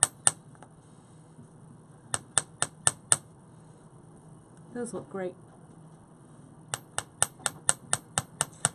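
A hammer strikes metal wire earring components on a hard block, sounding as sharp, close, evenly spaced taps in two bursts of about six and ten blows, with a brief spoken comment between them.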